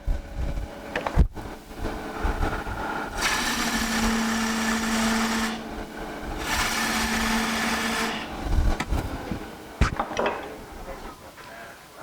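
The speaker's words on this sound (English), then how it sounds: "We're going to do beads and coves on spindle work." Wood lathe spinning spindle work while beads and coves are cut, two bursts of hissing, scraping tool-on-wood cutting over a faint motor hum, with knocks and handling sounds before and after.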